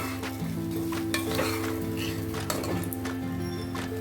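Soya pulao masala stir-fried over a raised flame, a steady sizzle with scraping stirs and faint clinks of a pan, close and continuous, with a low background hum.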